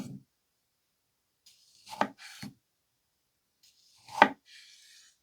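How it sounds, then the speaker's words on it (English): A slicing knife from a 15-piece budget knife block set cuts through a tomato on a board, giving two or three short, soft slicing and board-contact sounds separated by silence, close and fairly quiet. "Let's try out the slicing knife with the tomato."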